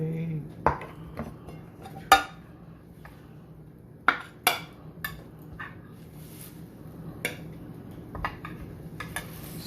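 A serving spoon clinks and scrapes against a casserole dish and plate while sloppy joe tater tot casserole is scooped out, sharp metallic taps scattered irregularly over a quiet kitchen background.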